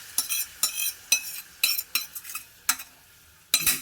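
Horse gram and drumstick leaves being stirred in a pan, a spoon scraping through them in about eight distinct, evenly spaced strokes, each a bright scrape close by with faint sizzling underneath and no talking.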